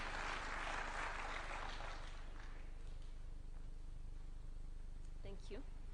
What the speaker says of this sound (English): Why don't we welcome them with a clap?